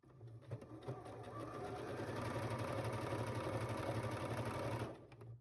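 A sewing machine stitches elastic onto fabric to gather it, running in a steady, continuous whir for several seconds close up before stopping.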